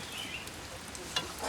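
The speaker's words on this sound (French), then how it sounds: "Il laisse mon tomate cuire." Tomato cooking in a pan for a goat curry, a steady low sizzle and bubbling with one small clink, heard close and alone.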